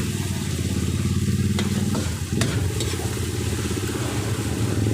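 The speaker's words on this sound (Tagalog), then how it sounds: "Palutuin muna natin yung kamatis para magkulay pula." Tomatoes frying in a pan for escabeche, a steady close sizzle with a few scraping stirs, while a low engine-like hum runs underneath.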